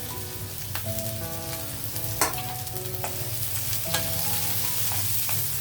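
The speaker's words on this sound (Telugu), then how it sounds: "ఆయిల్ వేడెక్కిన తర్వాత ఆనియన్ యాడ్ చేస్తున్నాను" Onions frying in hot oil for a stuffed egg dish give a dense, steady sizzle with a low hum beneath. A few crisp stirring clicks and scrapes come through, close and with no voices.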